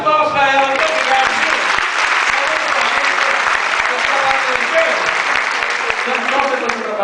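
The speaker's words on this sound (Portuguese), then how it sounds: "Vai uma salva de palmas pra ela, muito obrigado." Stand-up comedy audience claps loudly and continuously, a close, dense wash of many hands while a performer keeps talking over it.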